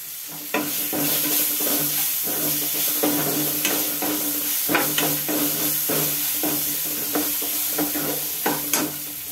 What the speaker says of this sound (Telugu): పచ్చి వాసన పోయే వరకు కొంచెం ఫ్రై చేసుకుని రైస్ వేసుకుందాం